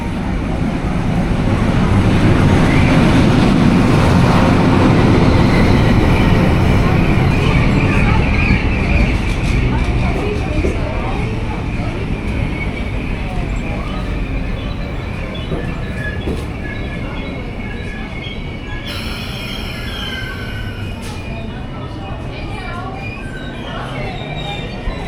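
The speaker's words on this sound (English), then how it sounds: "the train's come in, they've cleaned it, and it looks like we're ready to roll" A passenger train standing at a station platform near Byron Bay, with a low rumbling engine and rail noise that is loud at first and then settles into a steady hum, with scattered background activity.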